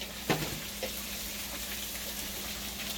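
Cooked bacon tossed into a pan of frying country gravy with butter and onions, giving a sharp splatter at first and then a steady, close sizzle and crackle that carries on alone.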